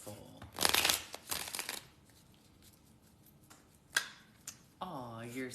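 Playing cards are shuffled during a live tarot reading, giving bursts of quick riffling and flicking near the microphone, separated by quieter gaps, with a voice speaking at the end.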